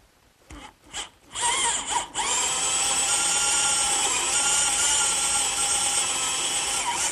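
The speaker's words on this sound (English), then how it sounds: "I've just drilled the holes for my bolts." A power drill bores bolt holes through clamped wooden cross braces for a garden swing, a few short bursts before a long, steady, loud whine close by.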